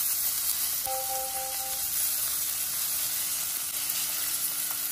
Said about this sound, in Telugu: ఇప్పుడు దీంట్లో నేను కొత్తిమీర కాడలు వేస్తున్నాను చూడండి